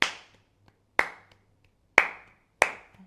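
Four crisp, close hand claps ring out with a brief room tail after each, falling at uneven intervals to beat out a rhythm from a Journey acoustic guitar lesson.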